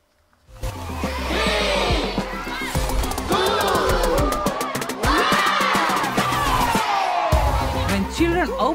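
Children in a church room cheer, shout and laugh as they open boxes, a loud sustained crowd of excited young voices with squeals and whoops throughout.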